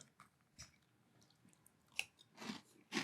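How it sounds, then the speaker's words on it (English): Chewing and biting on Little Debbie Cosmic Brownie cereal in milk, with soft close-up crunches and wet mouth sounds that come in a few irregular bursts. "I'm going to take a couple bites with milk on it"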